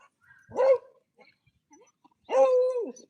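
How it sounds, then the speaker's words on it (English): Two sharp yips come from small, cute dogs, one short bark followed by a longer, higher whining bark after a pause, fairly close against a quiet background. "a part of coming today is getting all the cute little dogs"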